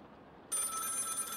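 Telephone ringing in the horror game Don't Go Into The Basement, a bright electronic bell trill that bursts in suddenly after quiet room tone and continues steadily.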